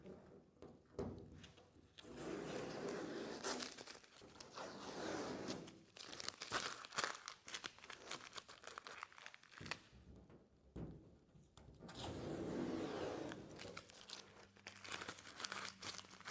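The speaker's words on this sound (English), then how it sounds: "Let me take the tape off so you can see the difference that we've made." Masking tape is peeled off a car's polished paint in long crinkly tearing strips with brief pauses, faint and close, running for several seconds.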